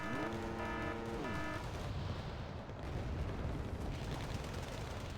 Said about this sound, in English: This mortar is really annoying.